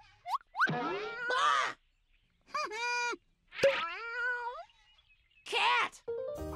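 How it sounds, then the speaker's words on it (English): A cartoon cat gives several separate meows, some stretched and sliding, with springy boing-like effects between them and short quiet gaps. "Cat!"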